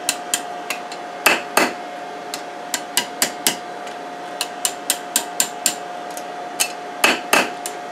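Hammer blows ring out on hot steel over an anvil while a coil is forged, a steady sequence of about two dozen sharp metallic strikes, some in quick pairs, close and clear with a faint steady tone beneath.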